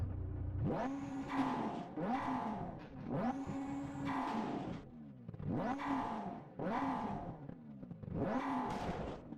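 A rally car engine in the video game Richard Burns Rally revs repeatedly in bursts, pitch climbing and falling with each gear change, several cycles in a row, close and steady.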